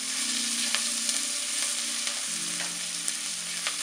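Grated beetroot and softened onion fry in a pan for a potato curry, giving a continuous loud sizzle with faint stirring scrapes and small crackles and no voice over it.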